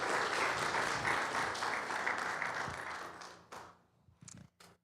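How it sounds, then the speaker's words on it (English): Applause from a seated audience at a county school board meeting, honouring a girls basketball coach: dense, steady clapping for about three seconds that thins out and fades, ending in a few scattered final claps. "So let's give them a round of applause"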